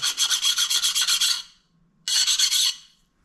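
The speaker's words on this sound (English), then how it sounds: "file will hold up better if you only use it in the forward motion" A hand file is pushed across metal in quick, even forward strokes, a bright rasping burst of about a dozen strokes, a short pause, then a second shorter burst, close and loud.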